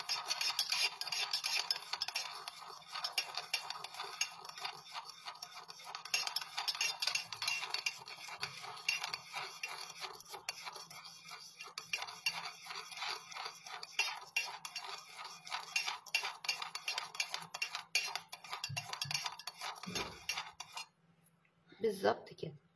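A spoon stirs sugar to dissolve it for Arabic coffee, a quick, continuous metallic clinking against the cup that is fairly quiet and steady, then stops briefly near the end.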